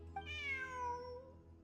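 A cat in the game Genshin Impact gives a single clear meow, rising then falling in a drawn-out tone, close and alone over a faint low hum.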